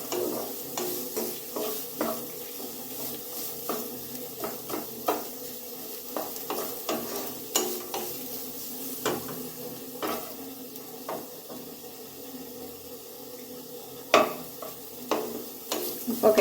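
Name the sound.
stirring beetroot upma in a frying pan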